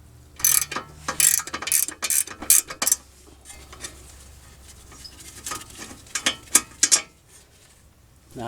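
Ratchet clicking as 18 mm caliper bracket bolts are loosened on a 2002 Mercedes-Benz CLK 430 front brake, several quick bursts of close, sharp clicks with pauses between, then softer mechanical handling.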